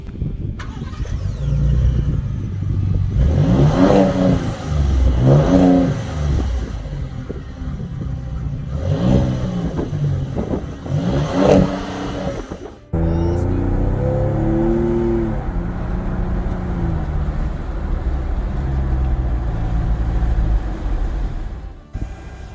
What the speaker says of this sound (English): How about we take it for a test drive?